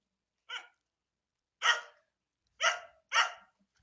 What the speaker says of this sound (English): the pup is being quite disruptive at the moment